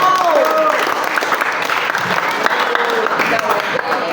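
Applause for Adi from a class of ninth-grade students, dense clapping held steady and loud throughout with voices and whistle-like cries mixed in.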